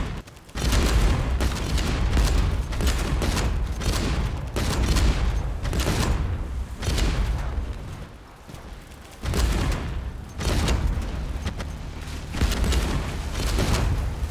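A boss ship's minigun in the naval combat game Age of Water fires in loud, rapid bursts separated by short pauses, with booming impacts layered through the barrage.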